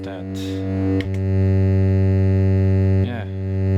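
Synthesizer oscillator with hard sync applied drones loudly in a sustained buzzy, harmonic-rich tone, with brief sweeping glitches near the start and again around the three-second mark.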